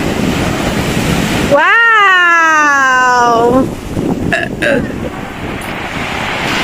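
A long, loud, drawn-out burp after a spaghetti meal at Matawe Beach in Dingalan, lasting about two seconds, voiced and tonal, heard over steady wind and surf noise, followed by a short exclamation.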